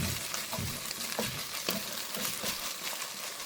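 Beef mince filling stirred in a pan with a little butter, a steady sizzle under repeated scraping strokes of the spoon against the pan, close and continuous, no voices.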